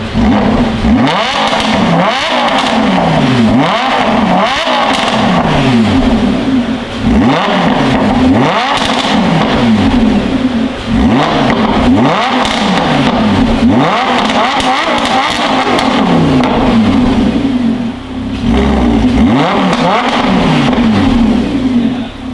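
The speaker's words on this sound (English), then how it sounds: "this car is warm already. It's not a cold engine." A warm car engine revs repeatedly for a racing simulator setup, with loud rising and falling sweeps in a steady cycle close by, no talking over it.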